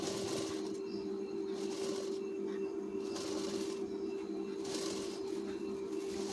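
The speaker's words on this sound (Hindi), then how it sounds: "धीरे धीरे बिल्कुल पाइपिंग पे सिलाई चलाएंगे" A sewing machine stitches slowly along piping on a blouse, its steady hum punctuated by a regular rhythm of brighter stitching bursts, moderately quiet and close.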